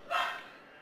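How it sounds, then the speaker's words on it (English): A dog barks once at a vacuum cleaner somewhere in the house, a single short muffled bark from the background. "The dog's barking at the vacuum out in the background"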